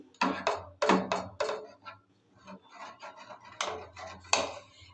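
Milk and date-palm jaggery being stirred for payesh, a spoon knocking and scraping against the metal pot in several loud bursts separated by short pauses, close by.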